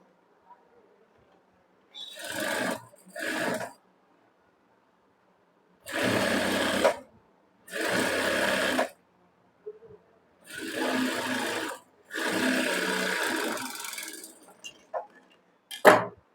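Sewing machine running an edge stitch along the lining of a princess cut blouse, in five separate bursts of about one to two seconds each with quiet pauses between, fairly close.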